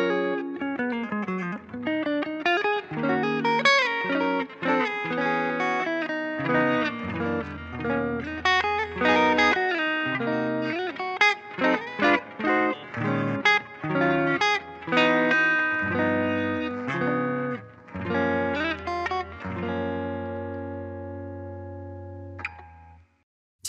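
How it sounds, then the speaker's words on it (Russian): Clean electric guitar through a VOX StompLab 2G processor plays a modern jazzy run of chords and single notes with a shimmering chorus, ending on a sustained chord. "современный джазовый тон с небольшим хорусом"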